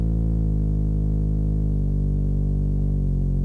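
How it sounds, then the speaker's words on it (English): Heavily distorted synth bass from a Serum preset, one sustained gritty low note that shifts pitch twice and holds loud and dense before cutting off abruptly. "I wanted a really distorted kind of bass to fit that vibe"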